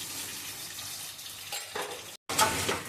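Potatoes frying in hot oil in a home kitchen, a steady crackling sizzle with a couple of brief stirring or utensil shifts, then a momentary cut before the sizzle resumes close and bright.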